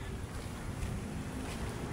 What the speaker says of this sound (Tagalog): Ayan naman yung ating alon Gumagalaw na naman yung ating dagat